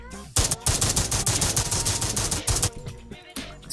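Rapid bursts of LAG 53 automatic gunfire in COD Mobile, dense rattling shots in quick succession with a brief pause near the end.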